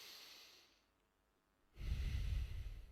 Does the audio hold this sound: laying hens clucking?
no